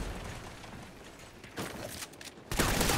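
Hip-fire gunshots in a video game come as loud, rattling bursts that grow denser and nearer toward the end, set against mechanical in-game clatter with no talking.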